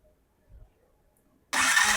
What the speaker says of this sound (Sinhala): දැන් අපි ස්ටාර්ට් කරලා බලමු.